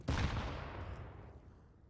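A single sharp pistol shot in a Counter-Strike match on the Mirage map, a sudden loud crack that decays into a fading echo tail.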